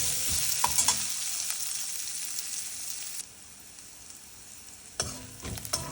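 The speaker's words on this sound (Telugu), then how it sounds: "ఇప్పుడు ఆనియన్ బాగా గోల్డెన్ కలర్ వచ్చేంత వరకు వేయించుకుందాం." Onions fry in a pan for an okra curry with a steady hiss. A few stirring clatters break in near the start and again near the end, and the sizzle quietens partway through.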